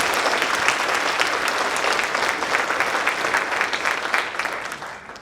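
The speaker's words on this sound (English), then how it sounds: "Please help us give a huge round of applause to them." A pageant audience gives a big round of applause, with dense, loud, steady clapping that holds throughout and tapers slightly at the end.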